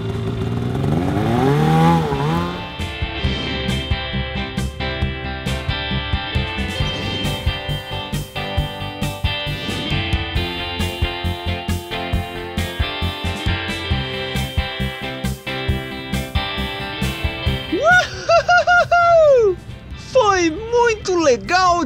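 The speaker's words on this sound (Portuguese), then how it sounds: "Legal dirigir esta moto de neve!" A snowmobile engine runs and revs as a mid-pitched, buzzing motor drone, with rising and falling pitch. It is close and loud, mixed with lively talk and musical sounds throughout.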